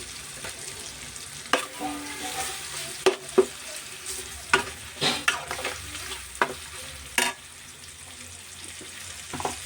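Ginger garlic paste fries in a pan with a steady sizzle, while a utensil stirring it makes a series of clacking scrapes and knocks. The stirring stops near the end and only the soft sizzle remains.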